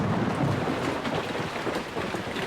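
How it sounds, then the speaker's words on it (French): Heavy rain pours down in a dense, constant wash in a children's cartoon, with a low rumble like distant thunder underneath. No voices. "Voilà la pluie qui se met à tomber."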